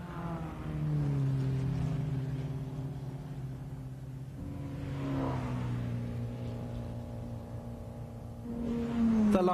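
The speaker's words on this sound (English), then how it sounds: "The Formula 2 Porsches keep circulating." Formula 2 Porsche race cars circulating at the 1957 German Grand Prix, a droning engine note that rises and falls over several seconds as cars pass at middle distance, with a higher rising whine at the end.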